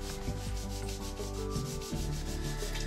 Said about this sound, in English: I used 80 grit sandpaper, and with this I cut wood grain into our dowel rods